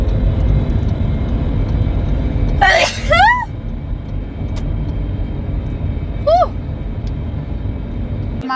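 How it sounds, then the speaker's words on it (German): A person sneezes once, a sharp explosive burst close to the microphone, over steady background hum, followed later by a brief breathy vocal sound. "Und ich muss niesen."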